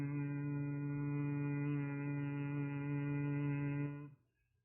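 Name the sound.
humming sound exhaled through the nostrils with closed lips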